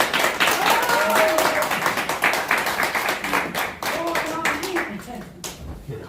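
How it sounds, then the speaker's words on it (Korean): Audience clapping at a campaign office opening event for a presidential candidate, dense and steady throughout, with voices and cheers mixed in over the crowd of hands. "큰 박수 부탁드립니다."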